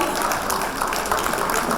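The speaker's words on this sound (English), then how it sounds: "And the applause continues as we keep inviting the dignitaries." Audience at the opening ceremony of a biennial conference applauds to welcome dignitaries, a steady, dense wash of clapping from many hands that holds at an even level for the whole stretch.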